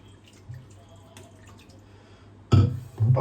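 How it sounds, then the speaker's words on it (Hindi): Water is poured into a cooking pan holding ginger-garlic paste and Maggi masala. After quiet, faint drips, it gives a sudden loud splashing burst near the end, followed by a second gush. "इसके बाद हम इसमें डालेंगे थोड़ा सा पानी"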